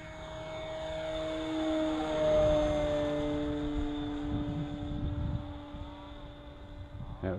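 An E-Flite Carbon-Z Cessna 150 RC plane takes off, its electric motor whining steadily and swelling as it passes nearby outdoors, then fading slightly.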